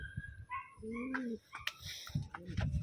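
A medium-sized blue bar Taiwan pigeon gives a few short, close coos, mixed with scattered chirps and soft rustling in a quiet space.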